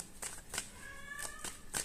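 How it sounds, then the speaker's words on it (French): A cat gives a few short meows close by, faint against a quiet room with light shuffling sounds. "le chat vous fait un coucou les amis"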